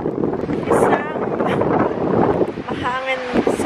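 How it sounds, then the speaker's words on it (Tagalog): Strong wind gusting outdoors, buffeting the microphone with loud rushing noise, while people talk briefly over it. "Sobrang hangin."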